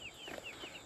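Three-week-old meat chicken chicks give soft, repeated peeping and clucking calls, a few short chirps close by over a faint steady background hum.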